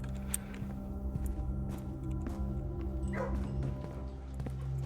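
A dog in the video game Blue Prince barks and yips faintly in the background over a steady low music bed, with no voices heard.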